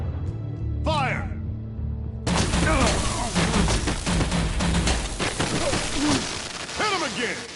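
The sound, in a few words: gunfire in Batman: The Enemy Within video game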